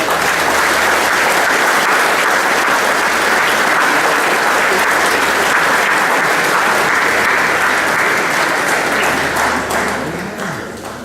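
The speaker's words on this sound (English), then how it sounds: "So can we give Isabel a round of applause?" A crowd gives a loud, sustained round of applause at a store opening event, a thick continuous wash of clapping that holds steady for about ten seconds before fading slightly.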